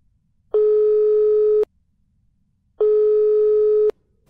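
A telephone busy signal sounds twice on a call, each a clean steady tone lasting about a second, separated by a gap of silence, loud and close with no talking.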